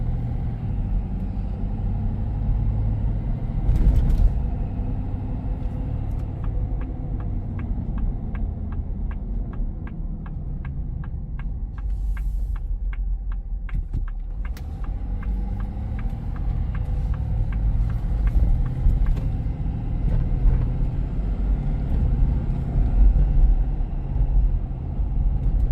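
A lifted 2025 Ford F-250 Super Duty Lariat pickup rides over a bumpy road, heard from inside with a steady low engine and road rumble, broken by periodic thumps and rattles as the truck hits bumps.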